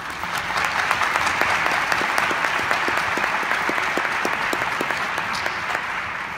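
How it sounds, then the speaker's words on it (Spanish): Sustained, dense applause from an audience at a sushi demonstration talk, steady and loud for several seconds with no voices over it. "Yo creo que se merece un aplauso."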